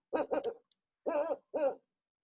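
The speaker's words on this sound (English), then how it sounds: "An owl. An owl." An owl hooting: three soft, low, breathy hoots in quick succession, then a pause and two more, close and clear against silence.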